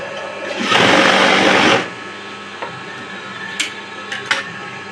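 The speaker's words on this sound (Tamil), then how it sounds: "சென்டரில் ஒரு தையல் போட்டுக்கலாம்." A sewing machine runs for about a second as it stitches a seam on blouse fabric, a close, whirring burst of rapid stitching, followed by a few faint clicks and handling taps.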